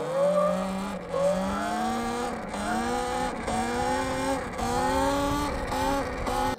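A Talaria x3 Red Edition electric dirt bike, unrestricted, rides close by with a steady rising and falling motor whine that climbs in pitch several times, loud and continuous with no talk.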